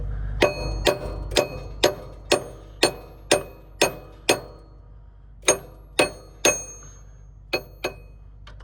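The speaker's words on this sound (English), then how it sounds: "this gear here is just slacking off a little bit, or it has slacked off a little bit, so it needs of taps just to move on the shaft a bit" Sharp metallic taps strike a slack gear to shift it along its shaft on farm machinery, a run of evenly spaced ringing knocks, a short pause, then several more, close and loud.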